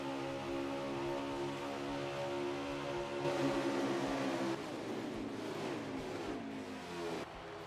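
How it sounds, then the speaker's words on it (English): A race car engine roars during the All-Star Clash race in Las Vegas, a loud, sustained high-pitched whine with shifting pitch and brief surges as the car drives along, heard from close with no talk over it. "Listening to the roar of the engine, now driving along, or riding along"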